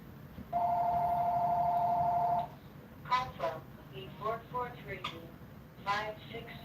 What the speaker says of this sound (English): Don't mind the phone, guys.